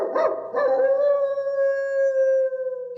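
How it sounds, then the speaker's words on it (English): A dog's long, wavering howl from a Disney 101 Dalmatians story record: the Great Dane at Hampstead relaying the Twilight Bark. A couple of short yelps open it, then one sustained, loud, close howl holds steady to the end. "The Great Dane picked up the message and relayed the barking."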